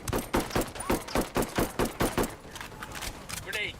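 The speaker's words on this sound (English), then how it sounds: "I'm opening fire on these shitheads." Rapid bursts of automatic gunfire in Ghost Recon Wildlands, a steady run of sharp shots for about two seconds, then quieter scattered noise with a faint voice.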